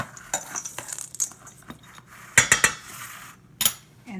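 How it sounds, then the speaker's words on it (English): A utensil clinks and scrapes in a bowl while dry cookie ingredients are mixed: arrowroot, baking soda and chocolate chips for grain-free drop cookies. The taps come irregularly, with a cluster of sharper clinks midway, and no voices. "Mix them all up just a bit."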